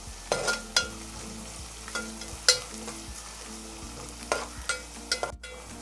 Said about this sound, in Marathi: कांदा थोडासा परतून घेऊया।